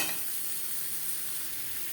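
Boiled potatoes lightly frying in a pan with turmeric and salt for mutton biryani, giving a steady, close sizzling hiss that holds evenly for the whole stretch with no voices.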